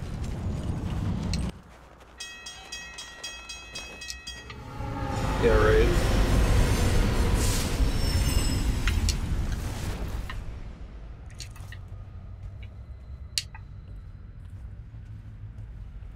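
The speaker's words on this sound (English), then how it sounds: "Not a safe speed for trains to go through an area like this." A train rushes past at speed in the video game Alpha Protocol, a loud roaring rumble with rattling that swells and then fades away, while people talk over it and game sounds play.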